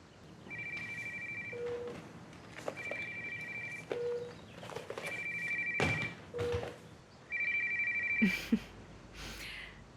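An electronic telephone ring repeats in short bursts with pauses between, alongside a few thumps and rustles nearby, ending with some handling noise.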